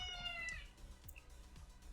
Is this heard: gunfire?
no